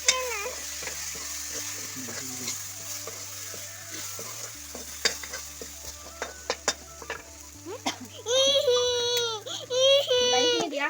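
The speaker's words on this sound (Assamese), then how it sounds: "ধুনীয়াকৈ ভাজি হৈছে" Spices including turmeric fry in a pan, a soft steady sizzle with stirring taps running underneath, while a baby's crying rises loudly near the end.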